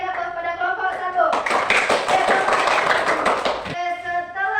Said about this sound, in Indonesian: berikan tepuk tangan yang meriah kepada kelompok 1